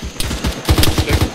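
Automatic gunfire in the military video game ARMA 3, a loud rapid burst of shots in a quick regular rhythm, close and unbroken.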